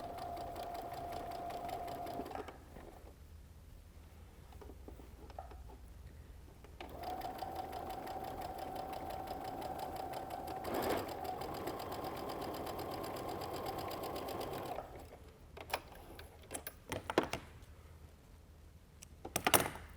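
A home sewing machine stitches quilt fabric pieces for a Spinning Spool quilt, running in steady whirring bursts separated by pauses, with some handling clicks and rustles toward the end.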